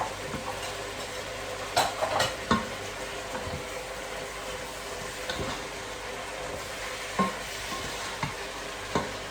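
Peppers frying with chicken in a pan, a soft steady sizzle broken by occasional sharp clacks and scrapes of stirring, fairly quiet and close.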